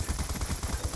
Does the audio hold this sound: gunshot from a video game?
yes